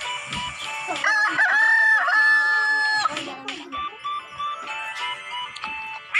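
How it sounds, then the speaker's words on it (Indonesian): A rooster crows loudly nearby, a long drawn-out call followed by shorter clucking notes. "Ada ayam,"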